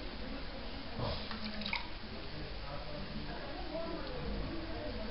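Water runs and splashes faintly as a hair piece is gently washed, a low steady trickle with a few small splashes.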